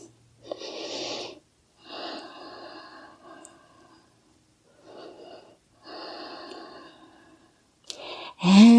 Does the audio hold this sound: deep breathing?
yes